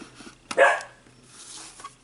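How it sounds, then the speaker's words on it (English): A dog barks once sharply at close range, a single loud bark with a short yelp-like tail, in a quiet indoor setting during a card-making session. "It's my doggy Scrappy"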